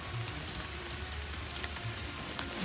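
Steady rain falls on a mountain trail on Mount Ciremai, a continuous close hiss of drops with no voices.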